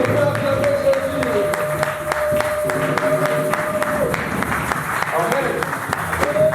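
Church congregation at a French-language worship service clapping and cheering for Jesus, steady rhythmic applause with crowd voices, a voice speaking over it throughout.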